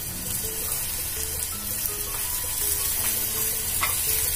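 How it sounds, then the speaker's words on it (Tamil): Onions and green chilli sauté in a pan with a continuous moderate sizzle and occasional stirring sounds, with music faintly underneath. "வெங்காயம் கொஞ்சம் வதங்கட்டும்."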